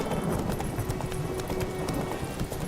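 Roach, a horse in The Witcher 3 video game, trots with steady clip-clop hoofbeats over a dense, continuous game soundscape, the rhythm close and even throughout.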